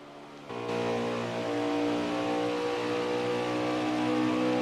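Race car engine droning steadily at low throttle while conserving fuel during an Xfinity Series championship race at Atlanta Motor Speedway, a sustained even hum that swells slightly after the first half-second and holds without revving.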